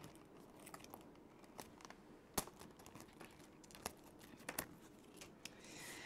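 Paper ribbon strip cut from a craft sheet, heard as a quiet run of crisp snips and crinkles spread unevenly, close and alone with no talk.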